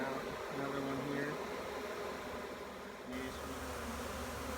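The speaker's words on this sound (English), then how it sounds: "So again, we had a cluster of bees here." Honey bees buzzing around a clustered hive at an apiary, a steady close drone with a raised tone early on, while a person talks over it.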